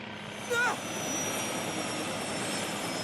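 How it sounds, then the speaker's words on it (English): A damaged helicopter in Anonymous;Code, its engine producing a steady, broad droning whoosh with a brief rising whine near the start, loud and continuous. "The chopper's damaged. It's gonna struggle to stay in the air."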